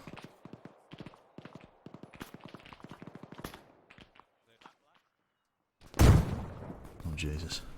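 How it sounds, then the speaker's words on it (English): Gunfire and grenade blasts in Arma 3 combat: after several seconds of voices talking over rapid clicks, a loud, close explosion bursts in, followed by rumbling, crackling fire and further dense blasts. "It's hard to tell with all the gunfire."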